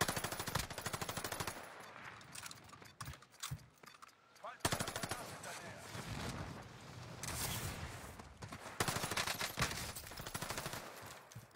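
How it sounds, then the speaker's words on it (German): Rapid bursts of gunfire from a sniper video game, repeated machine-gun volleys and single shots crackling loudly across most of the stretch, with a brief lull near the middle. "Und 4 Leute schießen nur auf mich."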